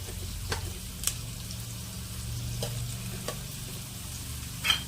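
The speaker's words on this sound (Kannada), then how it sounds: "ಈರುಳ್ಳಿ ಕಂದು ಬಣ್ಣ ಬರುವವರೆಗೂ ಫ್ರೈ ಮಾಡಿಕೊಳ್ಳಿ." Chopped onion fries in a pan for Konkani-style prawns sukka: a steady, soft sizzle with a few sharp clicks of a spatula stirring against the pan, close and alone with no voices.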